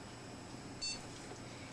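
An Asus P3B-F computer system gives a single short, faint electronic power-on beep midway through a quiet stretch of background noise.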